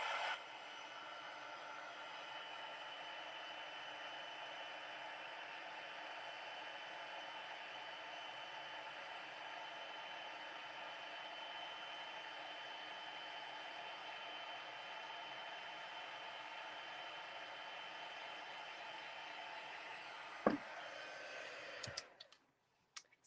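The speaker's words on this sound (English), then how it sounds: "now we're going to heat set this with our heat tool" An embossing heat tool blows hot air over a Christmas gift tag, producing a steady whooshing fan roar that runs unbroken for about twenty seconds, then cuts off with a few clicks and handling sounds.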